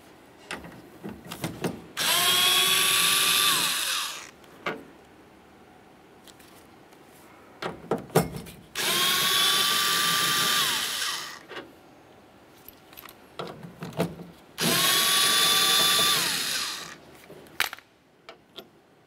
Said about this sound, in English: we're gonna continue on by removing these three 10-millimeter headed screws.